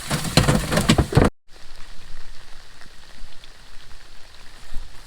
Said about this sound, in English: And it's still pouring down rain.